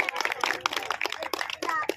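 Scattered, half-hearted clapping from an audience at a village gram panchayat event, a loose patter of claps under a speaking voice.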